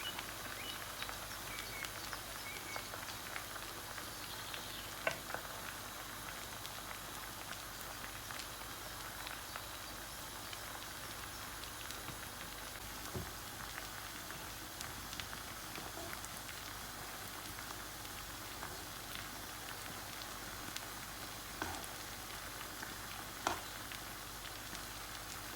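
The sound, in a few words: kofta balls frying in oil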